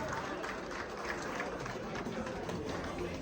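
An office audience applauds in a steady, dense patter of clapping during team rankings at a summer carnival fest, loud and continuous with some crowd noise mixed in.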